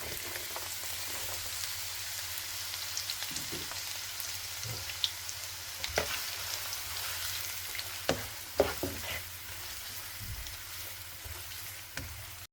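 Finely chopped onion frying in hot ghee for chicken pulao, a steady broadband sizzle with occasional soft clicks and stirring knocks, fairly faint and continuous with no talking.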